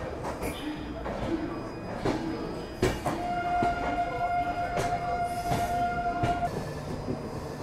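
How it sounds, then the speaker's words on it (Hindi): Duronto Express train running with the locomotive close by, a rumbling roll with regular clattering wheel beats and a sustained tonal whine through the middle, heard up close from a nearby coach. "आज अपना कोच जो है लोकोमोटिव के बिल्कुल ही करीब है, तो कमाल के साउंड आपको सबको सुनने को मिलेंगे"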